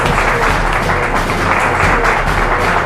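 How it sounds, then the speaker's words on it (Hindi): A talk-show audience claps loudly for a guest on Vindhya ki Kachahari, a steady crowd-wide burst of applause that holds unbroken and fairly close throughout. "एक बार जोरदार तालियां हो जाएं कनिष्क तिवारी जी के लिए।"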